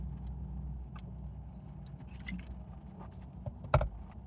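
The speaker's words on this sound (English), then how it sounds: "But you can hear the traffic going by." Road traffic passes in a low, steady rumble on a quiet New Year's Day in a near-empty town, with a few faint clinks and one brief louder knock near the end.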